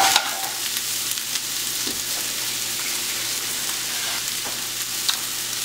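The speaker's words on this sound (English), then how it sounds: "I'm just going to add the onions and the stems from the artichokes themselves" Onions and artichoke stems frying with lightly toasted garlic, a loud continuous sizzle close up with a few soft stirring clicks and no talking.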